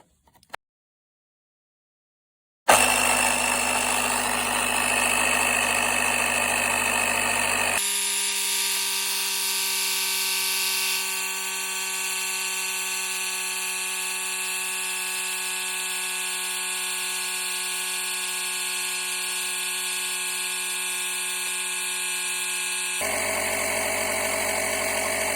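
A portable tire inflator pumps air into a tire, starting abruptly after brief silence with a loud, steady electric motor buzz and whine that holds for about twenty seconds, changing tone partway, no voices.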